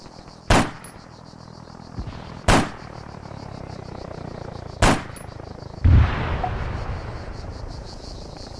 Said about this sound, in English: I've switched to the GM6 Lynx with APDS rounds, the anti-materia rounds, so I can shoot through the side of the towers